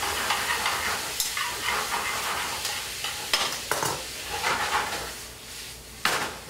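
Pork browning in a pan gives a steady broad sizzle, with scraping stirs and a few sharper bursts spread through it, no voices.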